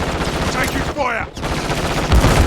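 Dense, loud gunfire in Call of Duty: Modern Warfare 3 team deathmatch on the Scrapyard map, rapid overlapping shots and bursts that run continuously, with in-game voice callouts mixed in.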